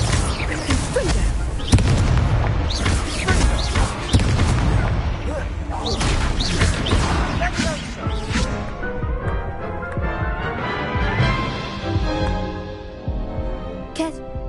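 Repeated Confringo spell explosions burst in Hogwarts Legacy on PS5, a dense run of loud booming blasts and pops in combat, with game voices briefly heard among them.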